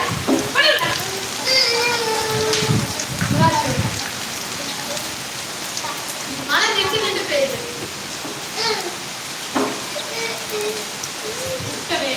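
Sudden heavy rain pounding on surfaces nearby, a dense steady hiss with spattering drops, while people talk loudly over it throughout.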